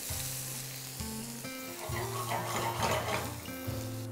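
Finely chopped green garlic, ginger and green chillies sizzle steadily in a pan while being stirred for a raw mango rasam, with a steady tonal background running underneath and no talking.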